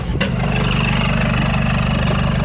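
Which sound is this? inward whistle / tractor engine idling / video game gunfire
tractor engine idling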